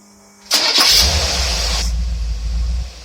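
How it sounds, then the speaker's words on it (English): Marine boat engine fitted with a Holley carburetor cranks and catches abruptly, then settles into a steady loud idle with a deep low rumble, heard alone. "We're going to rev it up a couple times just as if it was sitting in the dock"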